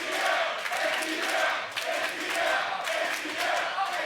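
A crowd at a Tekken esports tournament chants "ATL" in unison, rhythmic repeated shouts rising and falling in a steady pulse, fairly distant and filling the space.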